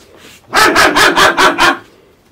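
A dog gives five quick, loud, close barks in a rapid burst, with quiet before and after.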